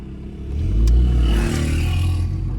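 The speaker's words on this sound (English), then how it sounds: "if you want to hear the pops, I've got slight pops on this car" Turbocharged Suzuki Swift Sport with a burble tune revving up, a loud close engine roar swelling and settling with a faint crackle of exhaust pops, no talk.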